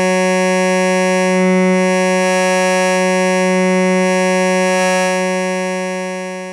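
Two wavetables play together on a Modal Argon8 synth as one steady, buzzy, harmonically rich drone. It holds at a constant pitch with a slow, gentle shimmer and fades slightly at the end.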